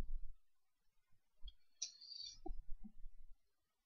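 A few faint, close computer mouse clicks are scattered across a quiet desk setting, mixed with low soft handling noises and a brief high tone.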